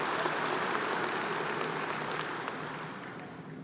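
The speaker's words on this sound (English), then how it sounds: "Please give Christian another round of applause." Graduating class and families at a 2019 high school commencement applaud a student, a steady wash of clapping that stays fairly even and fades slightly toward the end.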